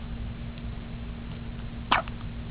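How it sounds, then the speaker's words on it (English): A baby gives a single short, sharp hiccup, close and distinct against a quiet, steady background hum. "she's got the hiccups"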